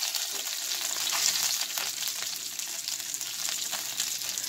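Beef tips browning in a pan for beef tips and gravy, an even, moderate sizzle with light crackles, no voices.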